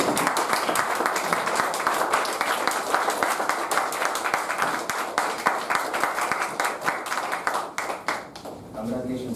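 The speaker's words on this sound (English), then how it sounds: "I request the members of Meli to stand and give him a great round of applause." A Toastmasters meeting audience gives a standing round of applause, steady dense clapping that thins into scattered claps near the end, with a voice starting to speak as it fades.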